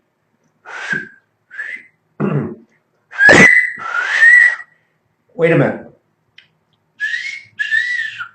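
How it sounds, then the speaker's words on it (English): Several sharp two-note wolf whistles, rising then falling, come in short separate bursts with gaps between them, loud and close, mixed with a brief spoken remark and throat noises. "No, it's a wolf whistle."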